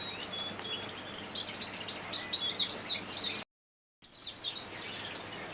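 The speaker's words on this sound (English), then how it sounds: "let's head over and take a look at the couple of the show birds" Show birds in an indoor bird room chirp and twitter in quick repeated bursts over a steady hum, cut briefly by a gap of silence before the chatter resumes.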